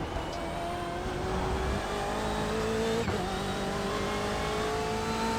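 A BMW race car in the iRacing sim holds a loud, steady high-rev engine note that climbs gently throughout, with a brief blip near the middle and no talking.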